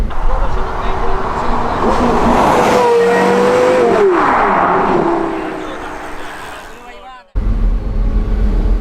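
A Porsche Carrera GT with a manual gearbox revs hard while driving, its engine note climbing loud and close, then fading before a sharp cut and a renewed roar, with someone talking over it.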